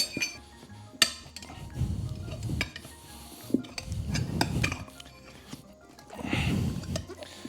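A metal spoon pries a tire over the wheel bead on a Baja Wrangler 2, producing close scraping, creaking rubber and sharp metallic clinks in short uneven bursts.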